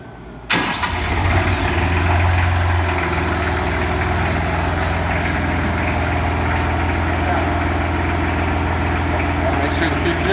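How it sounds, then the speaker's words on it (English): A Jinma tractor with a backhoe attachment starts with a sharp catch and then settles into a steady, loud diesel idle that runs on unchanged close by. "I'm just going to start the tractor"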